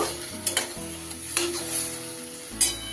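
Fried soybean chunks being stirred into poppy seed paste in a pan over low gas, soft sizzling under a few scraping knocks of the spoon, no talk.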